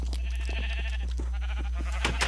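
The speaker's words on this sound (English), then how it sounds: "So let's shear some sheep." Sheep bleating in the Minecraft video game, a series of short wavering bleats overlapping each other at close range, with no talk over them.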